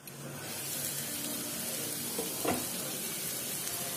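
Fish kofta curry cooking on the stove and being stirred, a steady bubbling sizzle with a brief scrape of the spoon partway through.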